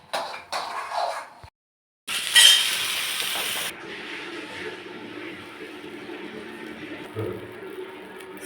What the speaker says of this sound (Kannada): ಕಡಲೆ ಬೀಜ, ಒಂದು ಮೆಣಸಿನ್ಕಾಯಿ ಸ್ವಲ್ಪ ಲೈಟಾಗಿ ಹುರ್ಕೋಬೇಕು